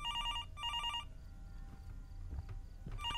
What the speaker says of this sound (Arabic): طبعا التلفون يرن.